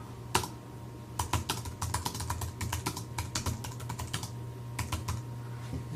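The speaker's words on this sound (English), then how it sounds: "when we type something in here," Fast runs of clicks from someone typing on a computer keyboard, heard up close with short pauses between bursts over a low steady hum, with no talking.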